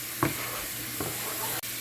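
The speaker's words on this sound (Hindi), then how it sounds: "अब इस टाइम पे हम इसमें कीमा भी ऐड कर देते हैं।" Minced keema meat drops into a pan of hot gravy and gets stirred, giving a couple of soft scraping strokes over a steady low sizzle.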